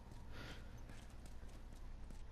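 A horse in The Last of Us Remastered shifts with a handful of muffled hoof clops at a steady distance, over low background ambience.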